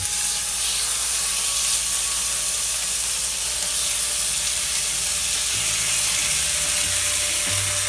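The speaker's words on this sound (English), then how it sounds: "the pan is hot enough to start cooking the bacon" Thick bacon fries in a hot pan with a loud, steady, close sizzle and hiss that runs unbroken from start to finish.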